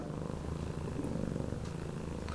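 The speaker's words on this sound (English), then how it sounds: "He's got a super loud purr." A cat purrs close and steady, a continuous low rhythmic rumble that rolls on without pause.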